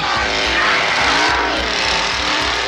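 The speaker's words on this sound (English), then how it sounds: "She's riding off in the truck down this road here." In a Texas Chainsaw Massacre film scene, a truck drives off down a country road with a loud, steady engine roar and rushing tire noise that stays close throughout.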